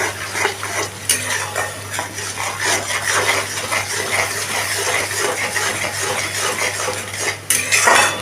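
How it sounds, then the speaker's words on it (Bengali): Masala being stirred and sautéed in a pan with a metal utensil, with frequent scraping and clinking against the pan over a steady sizzle, loud and close throughout with no talk. "আবারও এটাকে আমি ভালো করে কষিয়ে নিচ্ছি"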